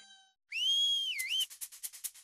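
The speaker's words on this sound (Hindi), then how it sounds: "सीटी क्यों बजा रहा है?" A person whistles one long, steady high note that bends down and back up, then breaks into a quick series of short rhythmic whistle bursts, close and clear with no talking.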